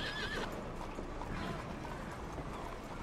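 A horse whinnies in Red Dead Redemption 2, a brief high wavering neigh at the very start, then clip-clopping hooves and faint mechanical clatter under a dense, steady game soundscape.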